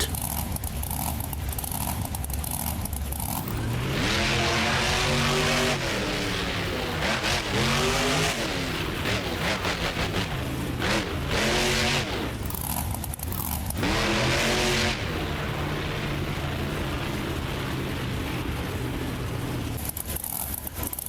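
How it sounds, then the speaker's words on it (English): Engine roar of a Power Wheels Bigfoot monster truck in BeamNG Drive at a simulated Monster Jam straight-line event, revving up and down in several loud surges across the run. "Please welcome Dan Runte in the Power Wheels Bigfoot."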